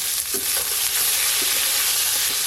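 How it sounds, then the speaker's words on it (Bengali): Frying eggplant stirred in a pan of oil once the lid is lifted: a dense, loud sizzle with a few soft spatula scrapes, close by, with no voices. "বেগুনগুলো চাপা খুলে একবার নেড়ে নেব।"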